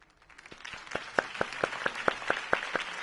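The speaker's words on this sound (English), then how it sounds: "If only Mr. Wayne, my campaign's largest backer, could have heard that applause" In a Batman: The Telltale Series rally scene, a smallish crowd claps, building from scattered claps into a quicker run of distinct, fairly close hand claps that carries to the end.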